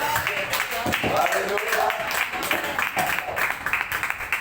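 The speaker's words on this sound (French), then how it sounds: "Applaudissez le Seigneur pour notre sœur Marie-Louise." A church congregation claps during a service, a steady patter of applause running under a voice calling out praise.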